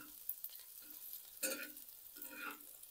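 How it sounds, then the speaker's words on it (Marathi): Onion and garlic frying in a pan, stirred in short bursts, with a soft sizzle and a few scraping strokes that swell and fade, fairly quiet throughout. "थोडं फिरवून घ्यायचं, मस्त त्याला हात मारत राहायचं थोडा वेळ, कांदा भाजूस्तवर."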